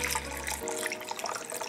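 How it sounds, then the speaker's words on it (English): Ramen broth is poured into a bowl, a watery splashing stream heard up close that thins into gentle trickling, with no voices. "I just pour it, why not?"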